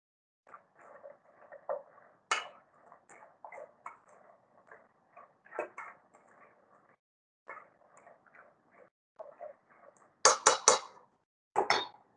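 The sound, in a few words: coating pecans in whipped egg whites in a bowl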